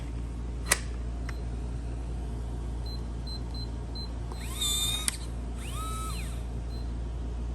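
Defiant electronic door lock, the $35 model, runs its motor in a quiet, high-pitched whir that rises and falls in two short bursts near the end, after a sharp click, over a faint background hiss.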